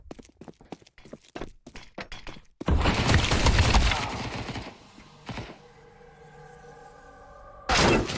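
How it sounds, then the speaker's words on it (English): A flashbang grenade bursts in Counter-Strike 2, a loud sudden blast with a long ringing tail, preceded by rapid clicks and footsteps and followed by a sustained high whine and another sharp burst near the end. "I'm throwing a flashbang."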